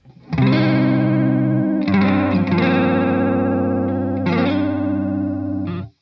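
Sustained electric guitar chords through a Behringer UV300 Ultra Vibrato pedal at its fastest normal-mode setting pulse with a rapid, wobbling vibrato, ringing loud and alone for several seconds with a couple of chord changes.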